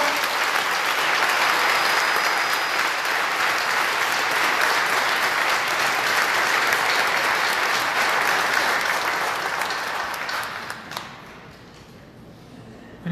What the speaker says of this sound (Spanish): Vamos a darle un aplauso fuerte a Jesucristo.